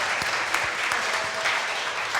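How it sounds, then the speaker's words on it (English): An audience at a live evening event applauds, a dense, even wash of many hands clapping together, sustained at moderate loudness without a break. "Let's give them a round of applause as well."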